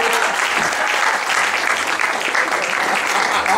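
Steady, loud applause from a crowd fills the whole stretch, a dense wash of clapping without pauses.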